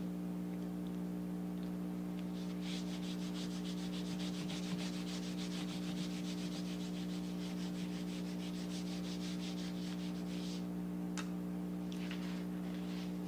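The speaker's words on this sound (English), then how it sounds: "you'll just lay your crayon down flat on top of your leaves and rub it" Crayon laid flat and rubbed back and forth over paper placed on top of leaves, a soft continuous scratchy sanding texture with steady strokes, faint and close, alone over a low steady hum.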